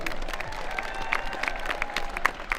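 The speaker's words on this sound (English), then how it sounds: "another round of applause for the commercial arts students" Audience applause fills a graduation commencement hall at Lawrence County CTC for the commercial arts students: steady, dense clapping from a large crowd, with a few brighter tones ringing through the wash.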